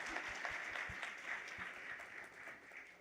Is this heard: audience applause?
yes